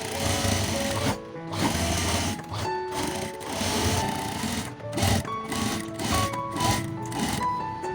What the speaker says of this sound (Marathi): दुसऱ्या बाजूला शिलाई मारून घेऊया.